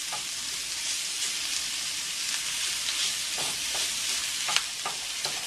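Greens and bacon sizzle and fry steadily in a pan while being stirred, a continuous close hiss punctuated by occasional scraping clicks of the stirring utensil.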